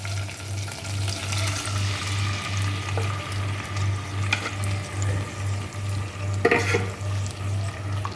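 Ginger garlic paste and ground tomatoes cook in oil in a frying pan, giving a soft, steady sizzle with occasional stirring scrapes and a faint rhythmic hum underneath.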